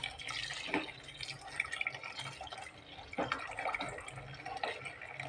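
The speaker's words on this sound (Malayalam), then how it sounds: "തിളപ്പിച്ച് വെച്ചിരിക്കുന്ന പാൽ ഒഴിച്ചു കൊടുക്കുകയാണ്" Boiled milk pours into a pot of coconut and date payasam, a steady close liquid splash and trickle running throughout with small drips and no talking.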